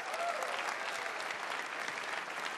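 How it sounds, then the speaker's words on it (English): A crowd claps at the E3 2018 EA Play briefing, a dense, even patter of applause from many hands that carries on steadily from start to finish. "I'm clapping."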